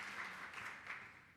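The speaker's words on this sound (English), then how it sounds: "Can we all give her a round of applause?" Brief, faint applause from a conference audience, a soft distant patter of clapping that lasts just over a second.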